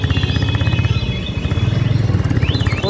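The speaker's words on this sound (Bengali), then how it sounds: "এখন আমি বসে আছি কাঞ্চনের বাইকে, কাঞ্চন চালাচ্ছে" A Suzuki Gixxer SF motorcycle carries a rider and a pillion passenger on a rainy-season road trip, its engine giving a steady, close, throbbing drone with rapid regular pulses and no speech.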